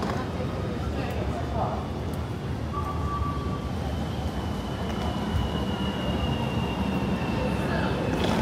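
A long Chinese bullet train runs steadily, a constant low rolling rumble with a faint high whine, heard at moderate level with muffled background voices nearby.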